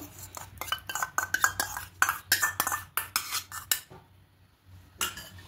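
Metal utensil scraping and clinking against a bowl while sour yogurt is mixed into semolina, a dense run of sharp taps and scrapes up close, then a brief pause and a few more clinks.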